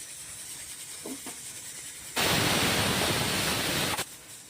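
A pressure cooker of pea lentils with bottle gourd lets out a loud, steady hissing whistle of steam for about two seconds before cutting off, with quieter kitchen background around it.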